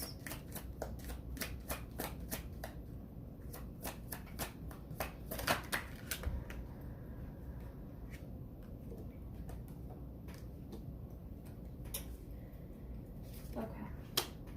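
Tarot cards shuffled close up, a rapid run of crisp riffling snaps and flutters that continues steadily at low volume.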